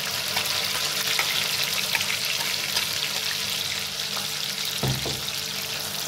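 Ground masala paste sizzles and fries steadily in hot oil for a Vidarbha-style patodi curry, a dense continuous crackle with a brief stir or clink near the end, no talk.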